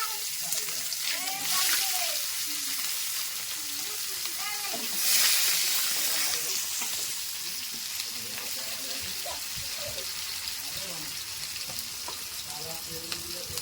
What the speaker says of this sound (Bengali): এবার কড়াইতে দেওয়া হয়েছে জিরে আর তেজপাতা, কেটে রাখা পেঁয়াজগুলো দেওয়া হচ্ছে।